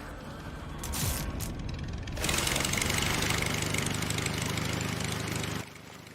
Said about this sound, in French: Le bruit du moteur va les attirer